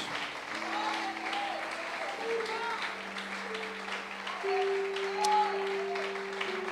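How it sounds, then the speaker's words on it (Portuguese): A congregation claps during a church worship service, steady applause running throughout with sustained organ or keyboard tones and some voices mixed underneath. "Aplauda o Senhor."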